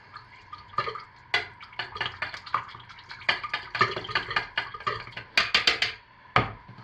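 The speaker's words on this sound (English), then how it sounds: "I'm going to pour the titanium dioxide into the white. It's mixed with water. And just give it a quick stir." Soap batter being stirred after a pour of titanium dioxide mixed with water, giving irregular small wet clicks and drips close by, quiet and scattered over several seconds.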